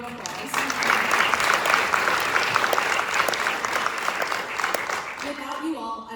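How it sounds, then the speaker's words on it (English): Sustained audience applause at a Georgetown University School of Health graduation speech, dense even clapping filling the room throughout before thinning out at the very end. "I'd also like to give them a round of applause."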